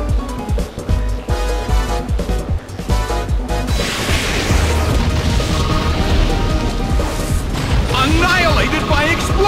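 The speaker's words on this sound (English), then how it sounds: "Annihilated by explosion! Taken down by an intense blow!" An explosion attack in the Wii game Pokemon Battle Revolution erupts into a loud crashing blast that sustains as a roaring, rumbling wash, following busy game music and sound effects, with an announcer's voice heard over it.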